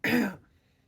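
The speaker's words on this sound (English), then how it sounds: "I started to cough." A single short, throaty cough, close and fairly loud, ending abruptly into quiet.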